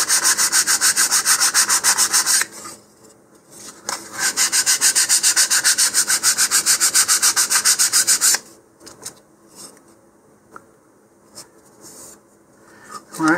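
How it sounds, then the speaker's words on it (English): Steady rubbing strokes of 150 grit sandpaper smoothing the leading edge of a high-power rocket kit fin, loud and close for about eight seconds, then a few scattered lighter scrapes and taps. "switch to 150 grit sandpaper to smooth out the leading edge here."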